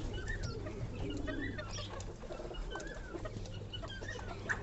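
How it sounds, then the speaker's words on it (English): Fantail pigeon with broad feathers cooing softly in a breeding loft, low repeated coos with other birds clucking and calling faintly around it, steady background hum. "So I just took out this beautiful fantail bird"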